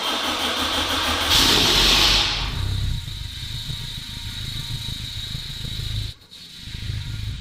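A tuned Honda Civic race car engine cranks with a high whine, then catches and settles into a rough, loud idle, with a brief dip near the end.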